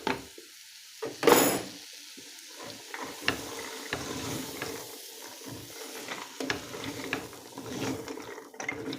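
A spoon scrapes and stirs through a pot of chickpea and meat stew, giving a series of close, uneven clinks and scrapes over a faint simmering sizzle, with a sharper knock near the start.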